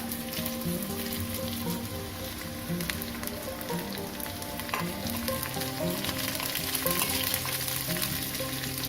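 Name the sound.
dried red chillies frying in oil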